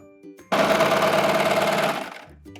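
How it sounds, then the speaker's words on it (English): A home sewing machine runs a steady, fast stitching burst for about one and a half seconds as a sleeve is sewn into the armhole of a crewneck sweatshirt, then winds down, with quieter handling noise before and after. "Now we're gonna sew the sleeve in."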